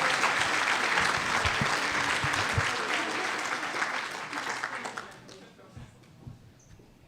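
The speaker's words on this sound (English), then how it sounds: "Let's give one more round of applause for all those seniors." Loud, full applause from a banquet crowd honoring senior volleyball players, swelling at first and then thinning out into scattered claps as it fades toward the end.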